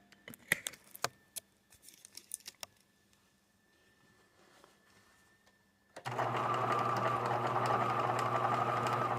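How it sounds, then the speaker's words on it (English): A sewing machine runs steadily in reverse, stitching a patch onto ripped jeans, a loud continuous motor whir that starts abruptly after several seconds of scattered clicks and handling noises. "I'm holding the reverse up on the machine, so I'm sewing with one hand for that reason."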